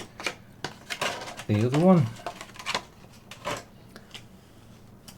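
A Logitech G502 SE Hero mouse gives a few sharp, quick button clicks, scattered and fairly faint beneath someone talking close by.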